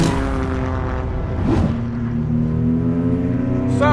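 A Toyota GR Corolla drives along with a steady droning engine note and tonal whine, a sweeping surge midway through, heard from close by without talk.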